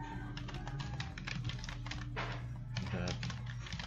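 Quick, uneven bursts of keystrokes clatter on a computer keyboard while entering text into an Excel VBA data entry form, quiet and close, with a short pause in the middle.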